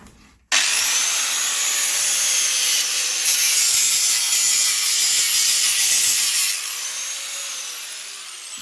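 A saw cuts through wood for the floor grid of a chicken coop, a loud, steady rasping that runs continuously for about six seconds and then eases slightly before stopping, heard close with no talk.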